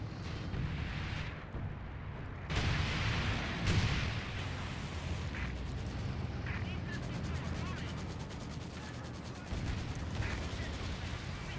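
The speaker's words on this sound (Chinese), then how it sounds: "我叫了个122空袭到这儿" Artillery strike explosions in the video game Company of Heroes 2, a run of heavy rumbling booms and blasts layered with battle noise, with voices talking over them.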